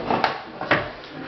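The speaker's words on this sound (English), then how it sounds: "They're solid maple drawers." A solid maple drawer sliding open or shut, giving two short wooden knocks and rubs, close and moderately loud, in a quiet room.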